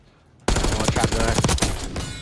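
Shotgun blasts in the video game Black Ops 6 break in abruptly after a quiet moment, a loud cluster of overlapping shots and impacts with some voices in the background.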